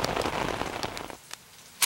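Heavy rain falls in a Tamil TV serial scene, a dense patter that fills the first second or so before thinning out, followed by a sharp knock near the end.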